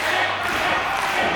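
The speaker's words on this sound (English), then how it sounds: "The crowd here in Lacey cheering him on." A wrestling crowd in Lacey cheers and roars as a steady, diffuse wash of noise, moderately loud with no clear breaks.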